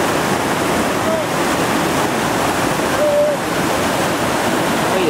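Whitewater roaring through Initiation Rapid on the Gauley River, a dense, steady rush of churning water heard up close and loud throughout.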